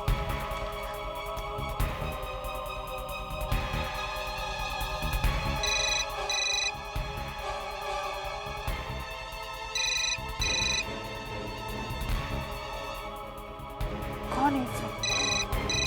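A phone rings repeatedly during a tense family drama scene with a worried mother calling about a feverish child, the electronic ringtone bursts pulsing in regular pairs over background music while people speak.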